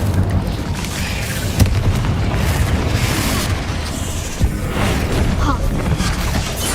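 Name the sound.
Incendio fire spell blast destroying eggs in a video game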